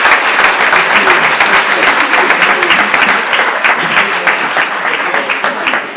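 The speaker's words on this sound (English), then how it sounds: "Let's give a round of applause for Carrie and Heeral." A summit audience gives loud, close, dense applause after a Q&A session, with rapid overlapping claps holding strong for several seconds.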